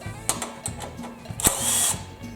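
A 10mm socket wrench ratchets out bolts on the carburetor of a Craftsman/MTD two-stage snowblower, a few short bursts of clicking turns and metallic taps close up, with no speech.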